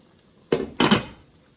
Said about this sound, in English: this is boiling now nicely, and let's cover it